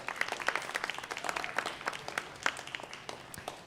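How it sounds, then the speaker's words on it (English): A live audience claps at an afternoon poetry reading, a dense, steady patter of many hands sustained throughout at moderate loudness, with no voices standing out. "give yourselves a round of applause for joining us this afternoon"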